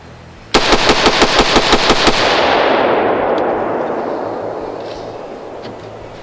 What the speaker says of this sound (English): Let's see if we can do 10 shots really rapidly, see if it'll keep up.